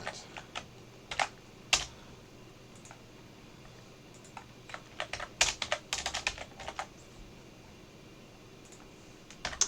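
Computer keyboard typing while coding a Cocos2d-JS puzzle game, irregular bursts of quiet key clicks with short pauses between flurries, close and fairly soft, no talking.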